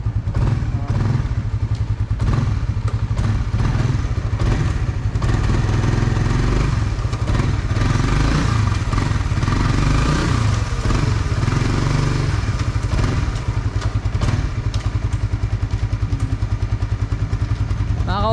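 A motorcycle engine rumbles loudly and continuously up close, with clattering and thumping mixed into the roar, the sound of a new motorcycle.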